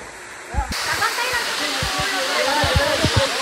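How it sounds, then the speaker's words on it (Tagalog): Water rushes loudly and constantly at the fifth level of the multi-tiered Aguinid Falls in Samboan, Cebu, with low thumps and splashes in the foreground. "Ang Gilid Falls. Daghan sa levels and this is the 5th level."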